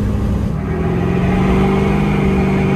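A car engine runs loud and close, holding a sustained, steady drone with tonal harmonics as it moves up through the gears toward overdrive.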